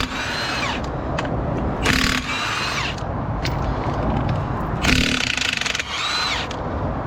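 A 3/4 inch Milwaukee impact wrench rattles off half shaft bolts on a 44 tonne lorry at a roadside recovery, with two loud hammering bursts standing out over steady nearby machinery noise.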